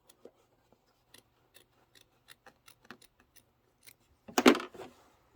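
Scissors snip quietly and repeatedly while trimming fabric along a placement line on a pillow appliqué, in a steady string of small crisp cuts. A louder rustle of handled fabric follows near the end.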